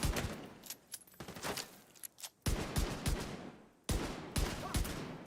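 Rapid-fire enemy gunfire from The Division 2 crackles in dense, loud automatic bursts, broken by brief pauses before the shooting resumes.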